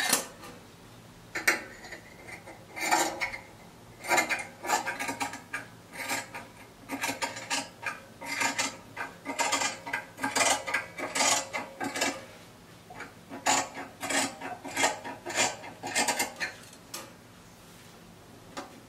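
Scissors cutting fabric for a cowl neck top: irregular bursts of close, crisp snipping and crunching, clustered in quick runs with short pauses between them, with no talk.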